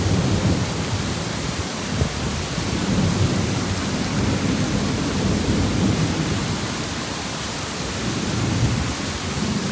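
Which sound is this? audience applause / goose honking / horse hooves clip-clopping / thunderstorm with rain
thunderstorm with rain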